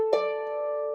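A harp plucks a phrase from the tune Cawdor Fair: one bright, close note with a crisp attack rings out and sustains smoothly, decaying gently over about a second, alone without talk.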